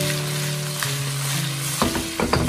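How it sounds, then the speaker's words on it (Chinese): Chopped fish bones frying in hot oil in a wok, a close, continuous loud sizzle with a steady hum underneath, then brief sharper crackles and spatters toward the end. "油热以后把刚才剁好的鱼骨加入进来"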